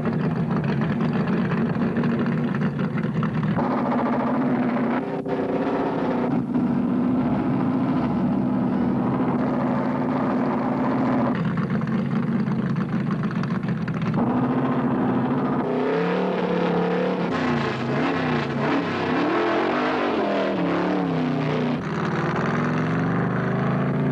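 NASCAR stock cars racing at Ontario in 1971, an engine drone that swells and rises in pitch as cars pass, with a sustained roar and revving sweeps near the end, loud and continuous with no voices.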